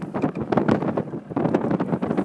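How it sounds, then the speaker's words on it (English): Low, gusty rumble of wind buffeting a microphone, loud and continuous with surging bursts throughout. "Sorry about the wind, it's very windy."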